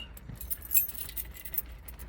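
Keys on a Nite Ize belt clip jingle faintly with light metallic clinks and taps in an irregular pattern over a quiet, low background hum.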